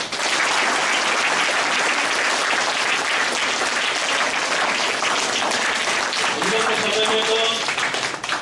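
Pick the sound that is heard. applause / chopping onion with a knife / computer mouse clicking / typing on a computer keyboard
applause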